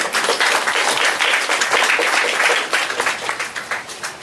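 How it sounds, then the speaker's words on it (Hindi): A wedding crowd in Ranchi, Jharkhand bursts into loud, dense clapping that holds steady and then begins to thin and ebb at the end. "सबके लिए एक बार जोरदार ताली बजा दीजिए।"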